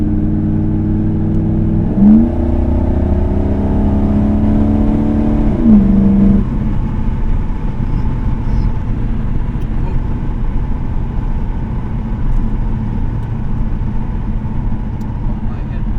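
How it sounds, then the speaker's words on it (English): A 1982 Corvette with Crossfire Injection and an automatic gearbox accelerates with a rising engine note that shifts through gears, then holds a steady cruising drone from inside the car. "You wouldn't really know this thing only has around 200 horsepower, but it has that torque figure that makes it feel a lot quicker, puts you in your seat."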